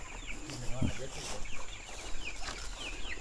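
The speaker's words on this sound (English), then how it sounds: "So the chickens that are sitting there, yeah." Chickens cluck in soft, scattered bursts nearby on a farm, including brooding hens, with a faint voice and some background noise mixed in.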